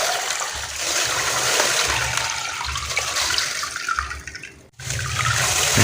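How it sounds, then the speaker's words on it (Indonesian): NPK fertilizer solution poured into well water makes a continuous rushing, splashing pour that runs for several seconds, breaks off briefly, then starts again at full strength. "Nah, kita langsung tuangkan ke dalam air sumur."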